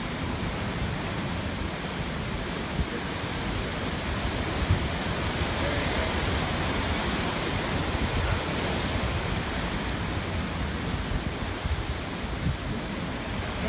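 Steady, roaring wind gusts from Hurricane Irma blowing outdoors, a dense, unbroken rush of noise with slight swells, loud and close against the microphone and with no voices heard.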